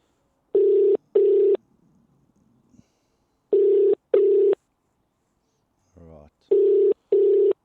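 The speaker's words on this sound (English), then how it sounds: "that's actually dialing through to her now. On her phone's actually ringing right now." A phone ringing on an outgoing call, heard as three pairs of loud, close double-burst ring tones evenly spaced, with brief quiet gaps and a short low murmur between them.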